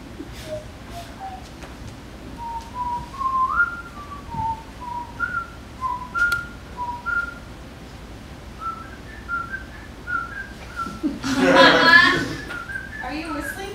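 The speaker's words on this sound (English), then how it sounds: "Maybe if I start whistling, my theme song will reveal itself." A person whistles a bouncy melody of short rising and falling notes, with a brief burst of rustling noise partway through.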